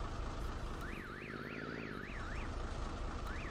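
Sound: reversing alarm of the Lizard T vehicle in Farming Simulator 19 (video game)

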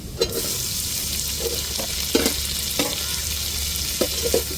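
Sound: onions and tomato sautéing in a pan

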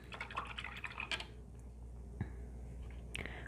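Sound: water dripping while rinsing out a paintbrush

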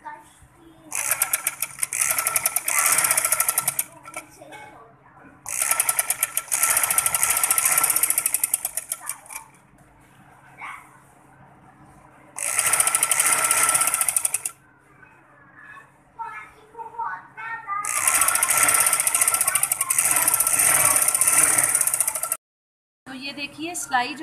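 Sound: sewing machine stitching trouser hem

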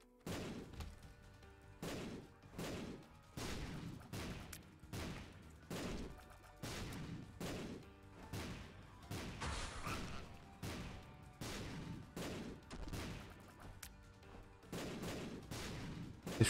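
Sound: shots firing in the video game Binding of Isaac

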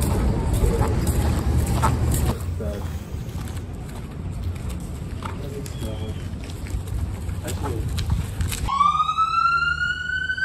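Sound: ambulance siren passing on campus

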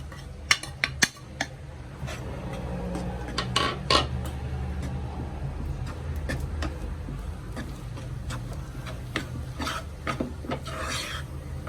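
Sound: stirring flour into hot oiled pan for poricha pathiri

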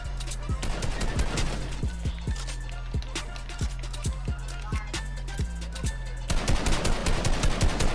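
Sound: gunfire in a video game

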